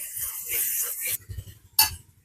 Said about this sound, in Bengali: মশলাটা এদিকে কষানো হচ্ছে আর একদম ধিমি আছে কষাতে হবে